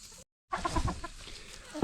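A Salmon Faverolle chicken clucks in a quick run of short, close calls after a brief silent gap, loud and alone without talk.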